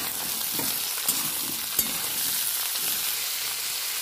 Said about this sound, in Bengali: এবার আমি ঝিঙেটা দিয়ে দেবো ঝিঙেটা দিয়ে দিয়েছি একটু ভেজে নেবো